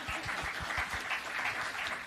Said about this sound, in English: It needs a big clap from you.